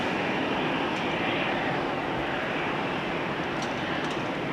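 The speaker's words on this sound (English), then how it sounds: "KLM Flight 1292 arriving from Billund. Next to arrive. Embraer 190." A KLM Embraer 190 airliner arrives at Amsterdam Schiphol Airport in the rain, heard as a steady, loud broadband engine roar that holds level throughout with no voices.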